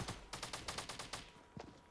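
Rapid gunfire in Fortnite Battle Royale: a quick burst of about eight evenly spaced shots, then a brief pause and one or two final shots, loud and close with no talk.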